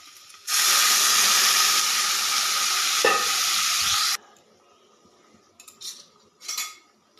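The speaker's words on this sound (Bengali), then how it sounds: "এবারে দিয়ে দেবো পরিমাণ মতো জল।" Water poured into hot frying masala for an egg curry bursts into a loud, steady hiss lasting several seconds, with a metal clink partway through, then stops abruptly, leaving a few faint stirring sounds.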